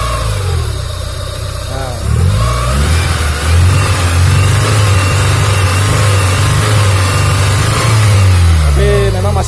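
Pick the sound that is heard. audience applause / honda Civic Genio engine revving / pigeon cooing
honda Civic Genio engine revving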